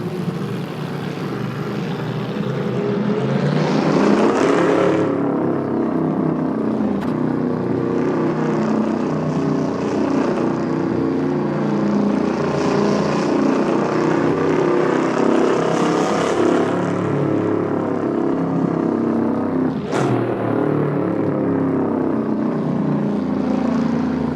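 A supercharged engine runs steadily and loudly with a deep drone, its pitch rising and falling through no-clutch gear shifts, with a sharp click near the end and no voices.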